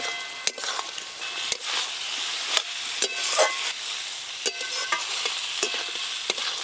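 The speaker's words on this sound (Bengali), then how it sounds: "মাছ আর মশলা একসঙ্গে ভালো করে কষে নিয়েছি।" Fried fish and spices are sautéed in a pan, a bright continuous sizzle broken by frequent sharp clicks and scrapes of a spatula, close and fairly loud, with no one speaking.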